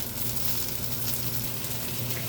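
Onions and peppers frying in a pan for pepper steak, a dense, steady sizzle filling the whole moment at close range with no voices.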